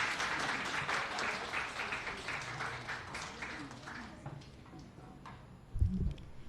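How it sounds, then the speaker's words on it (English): An audience at an AI symposium claps to welcome a speaker, a broad roomful of applause that starts strong and gradually thins and fades, ending with a brief low thump. "let us welcome her with an enthusiastic round of applause"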